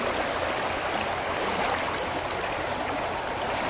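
Keremeos Creek running high with spring runoff flooding at Becks Road in Keremeos: a loud, steady, close rush of churning water with no pauses and no voices.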